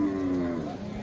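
A cow at a Qurbani cattle market moos once, a single loud, close, sustained low call with a slight falling pitch, heard alone.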